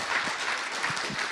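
Audience applause at a Korean Rotary club gathering, a dense steady patter of many hands clapping, moderately loud and continuous through the short stretch with no talk over it.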